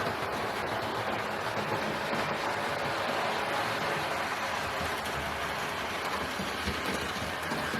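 A Hornby model LNER locomotive runs along its track, making a steady, even whirring hum with a soft rolling rattle that holds a constant level throughout.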